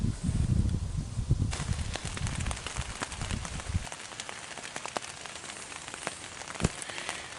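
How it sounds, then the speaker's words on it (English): Rain patters and taps on a tent at an abandoned campground, with close rustling and handling noises at first, then scattered sharp drops striking the fabric over a soft steady hiss. "Started raining on me."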